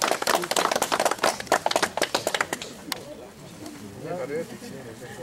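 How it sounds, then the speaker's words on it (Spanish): A small crowd at a paving inauguration in La Pila claps in a brief burst of sharp, separate hand claps that thins out after a few seconds, leaving quieter background sound and low voices. "Aplausos."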